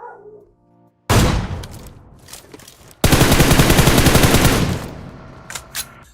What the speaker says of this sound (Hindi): तो मैंने इसको M4 का स्प्रे मारा यहाँ पर बंदे को डराने के लिए